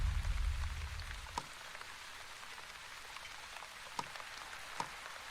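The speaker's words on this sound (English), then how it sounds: "Okay, so now he's moving and it's raining." Steady rain in the video game The Wandering Village: a soft, even patter of drops across the whole stretch, with a few sharper isolated drips standing out.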